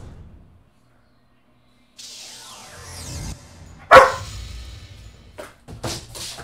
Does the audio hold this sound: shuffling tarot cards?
no